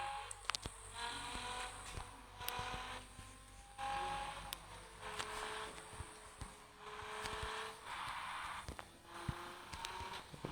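A video game car engine revs and accelerates in repeated surges, with steady engine drone and occasional sharp clicks, fairly faint and with no talk over it.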